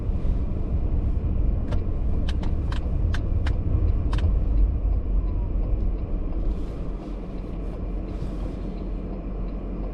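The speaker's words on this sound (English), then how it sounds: "and all these trucks or trailers that you're seeing are coming off the ice" Trucks and trailers driving off frozen lake ice in winter, heard as a steady low vehicle rumble with passing traffic noise and a few faint clicks, continuous throughout.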